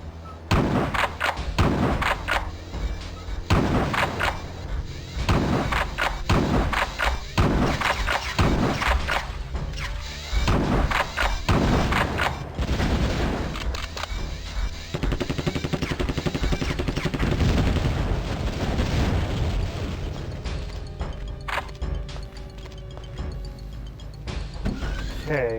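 A rapid burst of shotgun blasts in the video game Terminator Future Shock, about a dozen punchy booms in quick rhythm over a constant game soundtrack, giving way to denser mechanical rumble.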